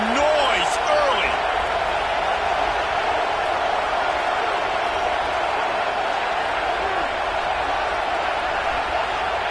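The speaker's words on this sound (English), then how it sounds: "This crowd bringing the energy and noise early." Roaring stadium crowd in the College Football 26 video game, a dense, steady wall of cheering noise that holds loud and unbroken throughout, with faint commentary-like voices mixed underneath.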